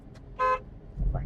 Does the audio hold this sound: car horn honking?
yes